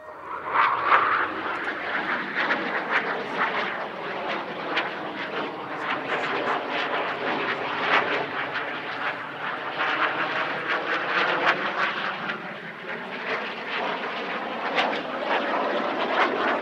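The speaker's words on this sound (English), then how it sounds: "Five aircraft approach from the left, the soloist is inbound from the right" Patrouille Suisse jets roar overhead in formation at an air show, a loud sustained engine rumble that swells and shifts as the aircraft pass, heard from the ground without talk.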